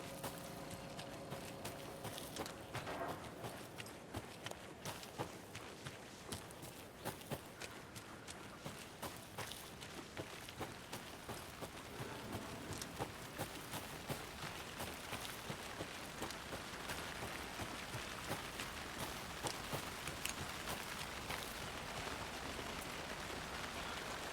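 Steady, heavy rain pours down at a drowned crime scene in the video game Alan Wake 2, a dense, constant hiss with scattered patters and spatters running the whole time without talk.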